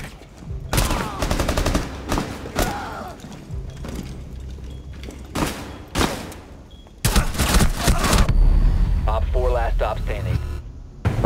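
Bursts of gunfire in Rainbow Six Siege crack out in several separate volleys, sharp and loud, with a sustained heavy stretch near the end, while players talk over the shooting.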